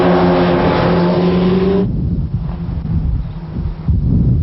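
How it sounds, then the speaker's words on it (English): Kawasaki ZX-12R and Suzuki Hayabusa sport motorcycles racing on a track, a loud steady engine drone for two seconds that drops abruptly as they brake, leaving rougher, quieter engine rumble. "And Gary sneaks past out of the slipstream and goes ahead on the Kawasaki"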